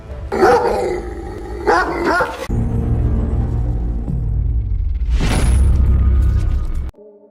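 Two loud, close barks from Alabay (Central Asian Shepherd) dogs in quick succession, then a deep rumbling boom and a rising whoosh.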